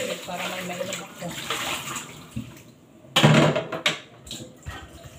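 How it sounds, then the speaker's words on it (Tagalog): Water from a tap filled into a container for drinking, a splashing, running stream that rises abruptly partway through and then sputters in short bursts, close by with faint background talk. "Kailangan ko magpayos ng tubig para may mainom ako."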